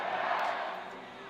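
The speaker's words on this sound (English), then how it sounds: "Cheers from the home crowd for Burroughs" A home crowd cheers at a wrestling match, the 2017 World Team Trials finals, a loud broad roar that fades slightly over a brief moment.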